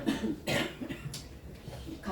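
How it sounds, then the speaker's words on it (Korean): A lingering cough after a cold, in a church sermon setting: two or three sharp, close coughs in quick succession, with a little throat noise between them. "감기가 다 나았는데 기침만 완전히 안 떨어졌어요."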